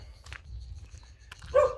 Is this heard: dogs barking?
yes